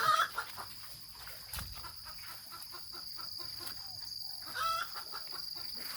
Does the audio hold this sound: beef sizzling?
no